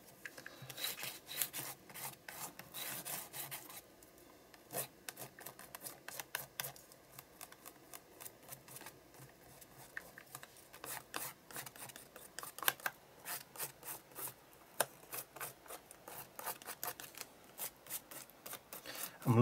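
A spatula and a fingertip rub and scrape across an art journal page, giving a close, quiet run of dry rasping strokes in irregular bursts that carry on without pause and with no talking.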